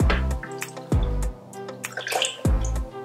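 Plant-based milk pours into a blender already holding pineapple, mango, avocado, cardamom and vanilla powder, making close gurgling liquid splashes that come in short repeated surges.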